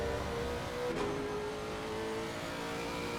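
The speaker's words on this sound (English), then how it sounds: "Really fantastic sounding engine that they've got on these things." A Lexus race car from the ACC racing game drones at steady mid pitch through a sustained engine note, with a rising shift near one second; continuous and fairly close, no voices.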